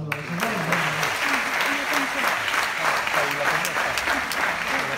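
Sustained applause from a crowd, steady clapping throughout with some voices mixed in underneath.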